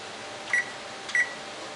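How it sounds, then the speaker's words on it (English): Two short, sharp electronic beeps from an oven timer being set in a home kitchen, about half a second apart, heard over quiet room tone. "We're going to set the timer for 12."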